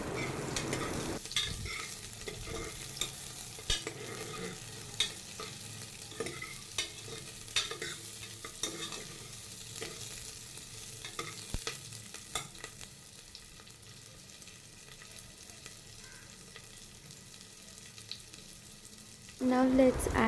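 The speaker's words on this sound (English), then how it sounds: "Now I'm adding garlic cloves and ginger as well, and the chopped onions" Garlic, ginger and chopped onions sauté in a pan with a quiet, steady sizzle and regular spatula taps and scrapes, and a louder burst at the end.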